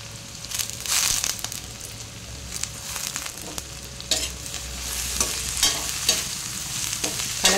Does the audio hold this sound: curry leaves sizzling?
yes